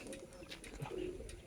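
Pigeons coo at an outdoor bird feeder, a few soft, low throaty calls up close over light background chirps and ambient noise, with no speech.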